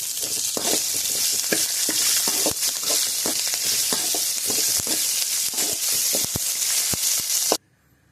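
Mustard seeds crackle and spit in hot oil with fenugreek, cumin, pepper, curry leaves and dried chillies, a loud steady frying hiss dotted with sharp pops, cutting off abruptly near the end.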